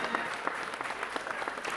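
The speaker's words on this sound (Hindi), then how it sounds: "जोरदार तालियों के साथ, करतल ध्वनि के साथ उनका अभिनंदन कीजिएगा।" Steady audience applause fills a closing ceremony of the Khelo India Para Games 2023, a dense, moderately loud patter of many hands clapping throughout the short stretch with no voices on top.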